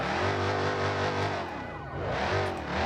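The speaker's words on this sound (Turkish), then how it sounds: "Arabanın sesi artık canımı sıkmaya başladı." A continuous, loud car engine drone in the BeamNG.drive video game, rising and falling in pitch like a racing car being revved, with no voices.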